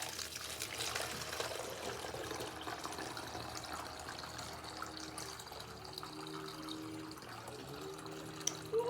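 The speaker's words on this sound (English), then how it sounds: "I'm gonna fill my bottle up with water." Tap water runs steadily into a plastic bottle at a sink, a soft continuous trickle and pour that carries on for several seconds before a small clunk near the end.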